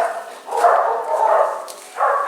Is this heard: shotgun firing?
no